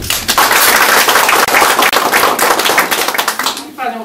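An indoor audience gives dense, loud applause for youth performers from a lower secondary school at a Christmas-season Kashubian event, with sustained clapping that fades toward the end.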